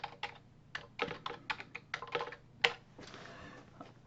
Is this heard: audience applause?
no